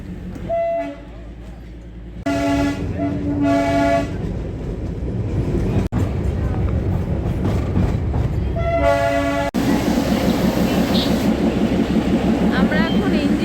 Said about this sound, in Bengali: এই দেখো টয় ট্রেন।